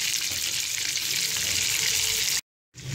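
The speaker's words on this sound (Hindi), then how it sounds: "मैंने इसे फ्राई करने के लिए रखा हुआ था लो फ्लेम पे" Chicken legs fry in oil over a low flame, a steady close sizzle that runs unbroken before dropping to a brief silence and resuming.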